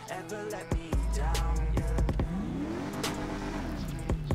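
A car engine revs hard, rising and falling in pitch with a loud, sustained roar close by, with a few sharp transients over it.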